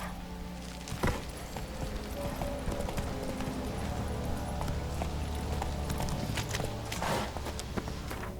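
Roach, a horse in The Witcher 3: Wild Hunt, runs with a steady, continuous clip-clop of hooves over a constant background ambience, with one or two sharper hoofbeats.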